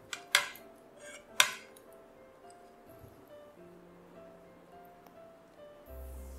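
A spoon stirs green and red jelly and sweets in a bowl, producing a couple of sharp clinks against the bowl early on, then softer scraping and tapping.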